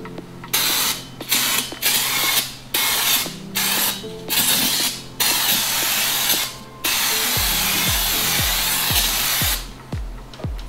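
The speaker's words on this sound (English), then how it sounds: "now we're gonna degrease it with the brake cleaner." Brake cleaner sprayed onto steel wheel rims to degrease them: a series of close, loud hissing aerosol bursts of varying length with short gaps, then one longer spray and a faint clicking mechanism underneath.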